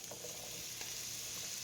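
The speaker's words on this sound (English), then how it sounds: "I'm going to add the apples to the pan." Apples frying in melted butter in a frying pan give a faint, steady sizzle with soft crackles and a few light stirring knocks, no talking.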